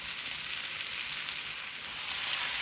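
Mango sizzles in a pan with sugar, cinnamon stick, bay leaf and salt, a dense, even hiss of frying that stays close and steady throughout, with no voices.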